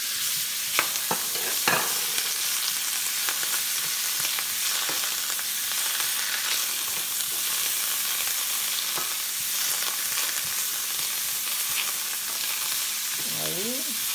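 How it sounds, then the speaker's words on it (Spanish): Whole mushrooms and onion frying in a pan, a steady close sizzle with occasional stirring scrapes and clinks throughout, no talk. "Voy a poner los mushrooms enteros"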